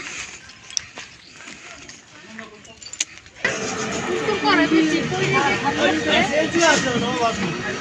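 A CNG auto rickshaw engine cranks and catches abruptly, then settles into a loud, steady, rattling idle close by. People talk quietly beforehand amid light background bustle.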